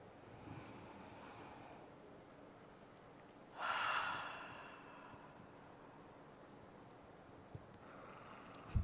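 A church congregation at a Sunday service taking a big breath together: one broad, breathy inhale-and-exhale swell in the middle of a quiet room, soft and diffuse, with no talking.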